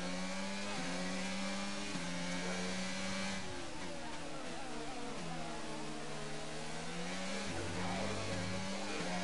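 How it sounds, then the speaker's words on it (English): Rally car engine in a racing game on a Spanish stage, droning steadily with the pitch climbing and dropping as the throttle is eased on and off through a long right-hand bend, continuous and close. "I'm like easing onto the throttle"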